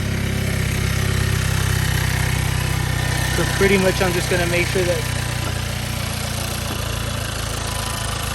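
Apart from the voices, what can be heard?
Hyundai Elantra N engine idling while warming up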